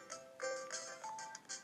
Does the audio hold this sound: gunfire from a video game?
no